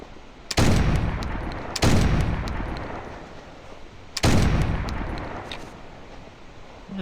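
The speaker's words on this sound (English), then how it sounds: "Tried a number of shots, but nothing..." Three loud rifle shots fired at a boar during a hunt in Siberia, spaced unevenly over several seconds, each a sharp crack with a rolling echo that trails off outdoors.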